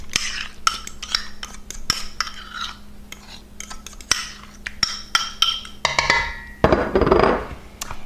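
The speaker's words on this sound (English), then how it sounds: "go ahead and stir all that together" Eggs and pumpkin stirred together in a bowl, heard as a run of close clinks and scrapes from a utensil against the bowl, uneven in rhythm, ending in a louder burst of scraping and mixing.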